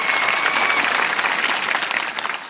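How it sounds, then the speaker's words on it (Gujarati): Loud, dense audience applause at a 122nd birth anniversary celebration gathering in Poshina taluka, sustained clapping from a crowd throughout with a slight fade near the end. "આપણે સૌ એમના માટે એકવાર જોરદાર તાળીઓ પાડી દઈએ"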